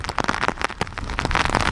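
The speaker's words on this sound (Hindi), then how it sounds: "क्योंकि बारिश बहुत ज़्यादा है" Heavy rain pours down during Cyclone Biparjoy in Gujarat, with strong wind, a dense, loud and continuous hiss of downpour with spattering drops throughout, no voices.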